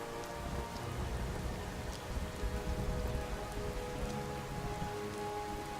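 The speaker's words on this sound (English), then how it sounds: "It's a little much for a rain effect if that's intentional." Steady, dense rain from a Rise of the Tomb Raider game scene pours on surfaces without pause, a loud continuous hiss with scattered drop impacts and a low rumbling bed underneath, no voices.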